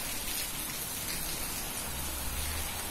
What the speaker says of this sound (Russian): Вот видите, он порывами такими дождь.